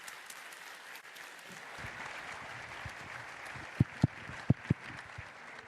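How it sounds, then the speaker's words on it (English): Applause from an audience at a tax symposium fills the room, steady and moderately loud, with a few sharp thumps near the end. "please join me in welcoming with a warm applause"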